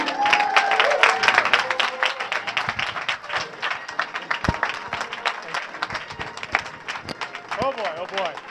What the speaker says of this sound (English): Let's have a big round of applause for Dr. Gerry Bland